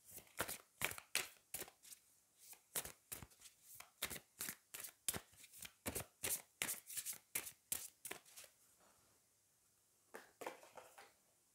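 Cards from the Magic of You oracle deck are shuffled before one is drawn, making a rapid run of crisp riffling flicks close by. A short pause comes near the end, then a few more flicks.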